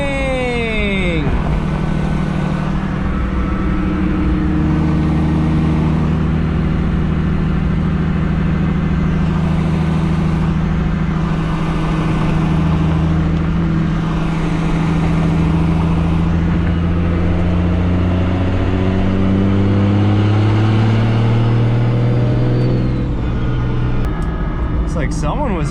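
A 750hp BMW 135i engine drones under load while driving, its tone climbing steadily through a long pull, heard from inside the car with a voice talking over it.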